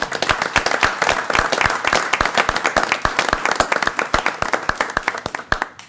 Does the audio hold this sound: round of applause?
yes